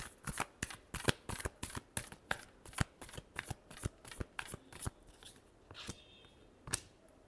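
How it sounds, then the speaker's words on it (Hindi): A deck of cards is shuffled up close for a card reading: about twenty quick crisp riffles and snaps in a steady rhythm, thinning to a few last taps, quiet and alone. "Last shuffle."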